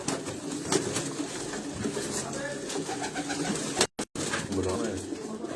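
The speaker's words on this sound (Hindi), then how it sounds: "ये सारे उस्ताद अब्दुल बासित के वो पट्टी वाले कबूतर हैं" Pigeons coo softly and repeatedly in Ustad Abdul Basit's loft of patti pigeons, low throaty calls under ongoing outdoor noise and occasional voices nearby.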